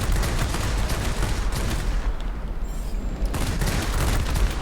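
Aircraft machine guns firing in the World of Warplanes game, dense rapid bursts of gunfire over engine roar, loud and continuous with a short pause in the middle before the shooting resumes.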